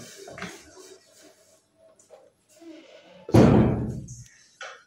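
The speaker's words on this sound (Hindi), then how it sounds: "दरवाज़ा कर दूं बंद।" A door is pushed shut with one loud thud partway through, preceded by faint household sounds and brief voices, with a small knock afterward.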